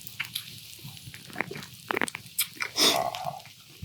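Someone chews grilled pork belly cooked on a stone slab with minari, close to the mic, giving irregular wet crunches and bites with one louder crunch near the end.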